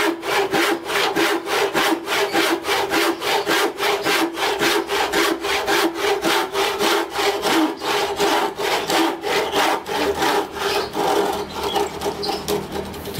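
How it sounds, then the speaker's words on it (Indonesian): A hand saw cuts through wood in long, steady strokes, each pass a rhythmic rasp repeating evenly and loudly, close by with no voices. "dalam menggergaji itu sebaiknya jangan ditarik yang pendek-pendek dan cepat ya"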